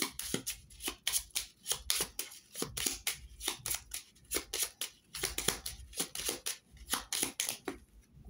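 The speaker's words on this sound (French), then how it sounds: "je vais prendre la petite carte conseil et puis on va regarder chaque cas" A deck of small advice cards is shuffled and handled in quick, rhythmic bursts of riffling and soft slaps, close and clear throughout with no voices.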